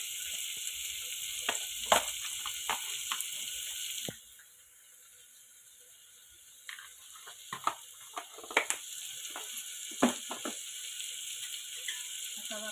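Whole masoor lentil curry with turmeric, salt and chili powder sizzles in a pan while being stirred, giving soft, irregular scrapes and clinks over a steady hiss that drops away briefly midway.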